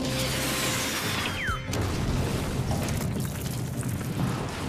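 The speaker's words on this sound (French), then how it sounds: "Une explosion de fluide a eu lieu sur la planète Shadows." A fluid explosion on a planet in the French cartoon Galactik Football, a sharp burst with a falling whoosh followed by a sustained loud rumbling roar that fills the rest of the scene, with no talk.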